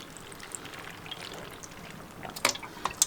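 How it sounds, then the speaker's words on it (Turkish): Brine poured over homemade mixed cabbage pickles: a faint, soft pour with a few small splashes and drips toward the end, close by and without speech. "Şimdi turşularımızın suyunu üzerlerinden dökelim."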